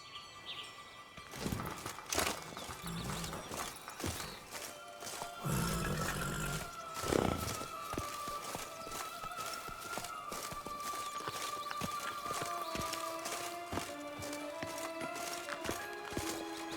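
Hooves of Roach, the horse in The Witcher 3, clatter in a quick clip-clop rhythm over a busy game soundscape with crowd noise and tonal music, the steps fairly close and sustained throughout.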